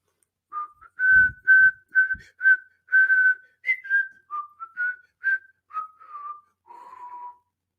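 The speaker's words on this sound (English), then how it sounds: "If anybody can tell me what I just whistled" A person whistles a melodic tune in a series of clear, sustained notes, close and steady, with a few soft thumps underneath early on.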